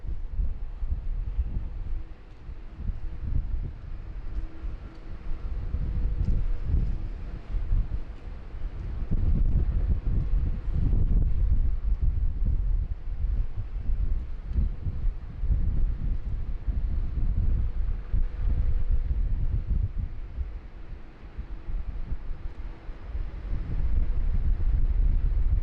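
Strong wind blowing at Sydney Airport on a windy, rainy day, a loud, low gusting rumble buffeting the microphone, swelling and easing in waves, with no voices.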